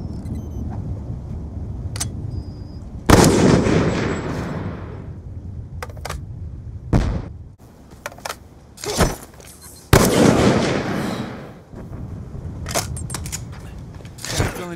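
Gunfire during a raid in a video game: sharp loud bursts of shots in several separate volleys, some single cracks and some longer rattling strings, with quiet gaps between them.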